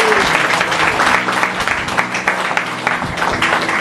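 A congregation at a Bengali church sermon claps loudly and continuously, a dense, steady patter of many hands filling the room, with faint voices beneath.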